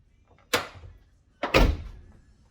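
Chevy Silverado pickup truck exterior door handle being worked, giving two distinct mechanical clunks of the latch and door about a second apart, close and clear.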